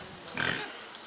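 A pig on a farm gives a single short grunt that swells and fades within a second, heard fairly close against a quiet background.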